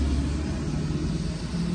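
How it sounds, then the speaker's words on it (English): A truck passes outside as a steady low rumble, loud and close, with no talk over it for a couple of seconds. "let that truck get past."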